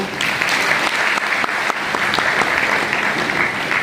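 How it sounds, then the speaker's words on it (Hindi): Loud, steady audience applause fills a hall at a talk held at a peace valley retreat, a continuous dense wash of many hands clapping without pause for a few seconds. "जोर से ताली बजाइए।"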